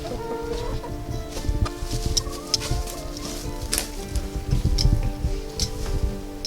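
Hens cluck and murmur steadily in a backyard coop in the Canadian wilderness in spring, a busy overlapping chatter with scattered sharper calls, fairly close and without talk.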